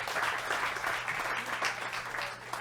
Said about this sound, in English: Let's round of applause for him.